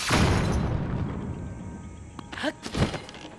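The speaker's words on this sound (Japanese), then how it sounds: "そこで、爆弾花の爆発で破壊します。" A bomb flower detonating against a boulder covering a hole in Zelda: Tears of the Kingdom: a loud, deep boom that rolls off over a second or two, then a few crumbling, cracking thuds of rock breaking apart.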